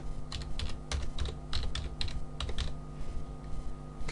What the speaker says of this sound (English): I'll just key in another contact